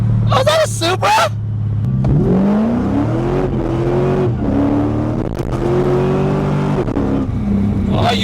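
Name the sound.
Toyota Supra car engine revving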